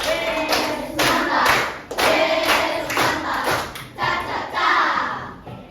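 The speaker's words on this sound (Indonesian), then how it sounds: "Kita beri tepuk apresiasi untuk Nadine." A classroom of students performs a rhythmic appreciation clap in unison, loud and close, with patterned bursts of hand claps and brief pauses between phrases, some young voices mixed in.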